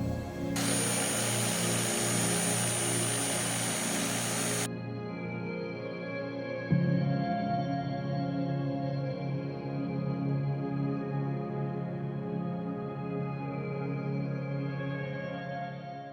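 A high speed sander polishes a thunderegg stone at 1500 grit, opening with a loud grinding hiss that cuts off, leaving a steady, droning motor whine that continues to the end.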